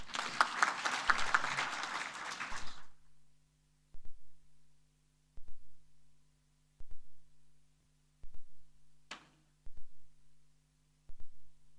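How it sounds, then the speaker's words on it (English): A conference audience applauds its panelists in a short, dense burst that cuts off abruptly, followed by a low hum and a series of evenly spaced muffled thumps. "Let's applaud our panelists."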